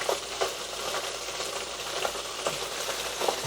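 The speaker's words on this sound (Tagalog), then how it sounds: "Kumukulo po siya mga ka-Berks." Chicken wings boil in a pot of water for a simple recipe, giving a steady, soft bubbling hiss with faint irregular pops, close and continuous, with no talking.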